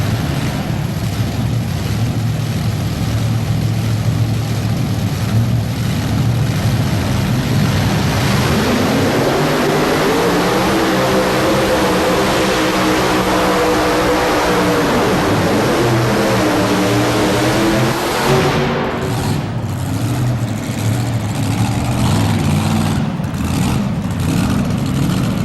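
A multi-engine modified tractor roars at a 1999 tractor pulling event in Louisville, Kentucky, a loud sustained mechanical howl whose pitch climbs and wavers midway, then shifts as one engine drops out, with crowd noise under it.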